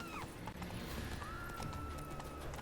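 Horse hooves clip-clopping steadily while riding in The Witcher 3, a continuous trotting rhythm under game ambience with a brief whinny, fairly loud and close.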